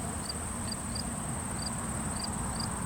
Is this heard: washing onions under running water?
no